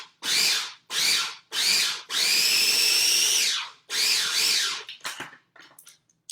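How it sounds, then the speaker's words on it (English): Food processor running in short chop pulses to make carrot top pesto with salt and pepper, five loud whirring bursts of rising and falling motor pitch, one long, then faint clatter as it stops. "I'm going to this time put it on the chop function"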